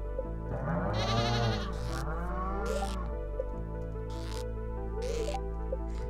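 Sheep in the video game Stardew Valley bleat, a wavering bleat standing out over steady game music, followed by short repeated clicky effects.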